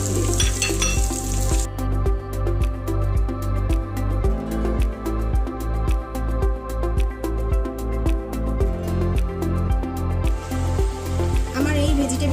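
Vegetables and already-boiled potatoes sautéing in a pan, a steady loud sizzle with repeated stirring scrapes in a regular rhythm, with background music throughout.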